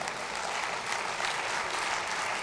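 Dense, even applause from a lecture audience, continuous and fairly loud throughout with no voices over it.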